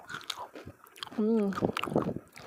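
Someone bites into a crunchy red velvet cornflake cookie up close, giving a few sharp crisp crunches and chewing, while a voice speaks around the bites.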